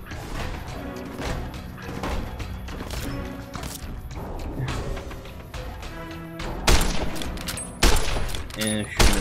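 Gunshots crack repeatedly in Fallout New Vegas, irregular loud bursts with thuds and impacts across the stretch, heaviest near the end, while a voice talks intermittently over the combat.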